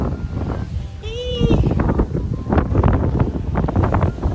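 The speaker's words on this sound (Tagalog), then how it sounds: "Grabe po yung wind. Mahangin talaga sa labas." Loud wind buffets the microphone outdoors near a beach in a constant low roar, with people talking over it and a brief whistle-like tone early on.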